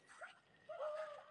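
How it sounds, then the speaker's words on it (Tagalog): At night outdoors, a dog gives a faint, thin, rising whimper lasting under a second, set against a quiet background with a softer yip just before it. "Kasama kong mga aso."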